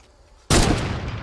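Gunfire in Fortnite: after near silence, a sudden loud gunshot burst breaks in, followed by sustained, dense rattling fire with a long roaring tail that stays loud to the end.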